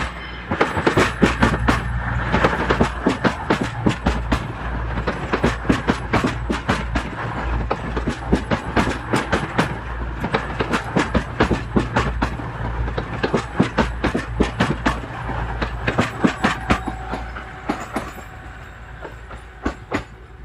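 An Avanti West Coast passenger train pulls into Crewe station with loud, rhythmic clickety-clack from wheels over rail joints and a deep engine hum underneath, gradually slowing and easing off toward the end.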